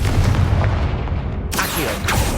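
A Confringo blasting spell exploding in Hogwarts Legacy, a heavy booming blast with rumbling low end, then a sharp burst of crackling impact midway through, loud and close.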